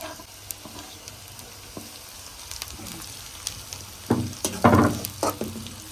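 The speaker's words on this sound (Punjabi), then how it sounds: "ਪਿਆਜ਼ ਨੂੰ ਅਸੀਂ ਡਾਰਕ ਬ੍ਰਾਊਨ ਨਹੀਂ ਕਰਨਾ ਲਾਈਟ ਬ੍ਰਾਊਨ ਹੀ ਰੱਖਣਾ ਵਾ ਭੁਰਜੀ ਦੇ ਵਿੱਚ ਤੇ ਕੜਛੀ ਨੂੰ ਚਲਾਉਂਦੇ ਜਾਣਾ" Onions and paneer bhurji fry in a pan and are stirred with a ladle: a steady soft sizzle with scattered scraping knocks that grow louder and busier toward the end, heard close up.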